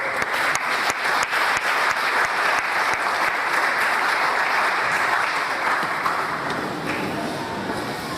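A seated audience at a MobileMonday Nigeria tech event gives a sustained round of applause, many hands clapping densely and evenly for several seconds before easing off.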